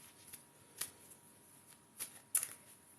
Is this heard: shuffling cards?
yes